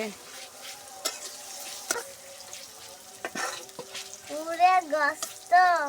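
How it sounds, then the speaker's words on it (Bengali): Dry chili, onion and whole garlic fry in oil with a soft crackling sizzle and a few stirring taps, while an insect-like buzzing whine rises and falls over it toward the end. "এতে শুকনো ঝাল, পেঁয়াজ, একটু আস্ত রসুন দিছি, দিয়ে এইটা ভাজা ভাজা করবো"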